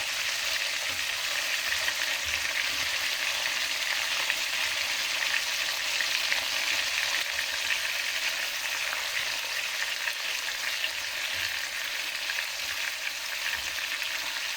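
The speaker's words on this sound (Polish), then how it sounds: "I teraz dodajemy pokrojoną cebulę." Chopped onion frying in a hot pan, a continuous dense sizzle that stays steady and close throughout without pauses or talking.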